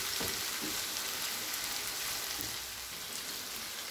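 Chicken frying on a tawa over a medium flame gives off a steady, dense sizzle with faint stirring scrapes, close and continuous without any talk.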